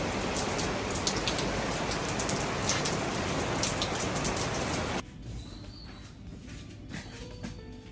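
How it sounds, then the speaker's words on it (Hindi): Rain falling steadily and fairly loudly for about five seconds, then dropping to a much quieter patter with scattered drips. "मैंने सोचा आप लोगों को बारिश दिखा दूँ"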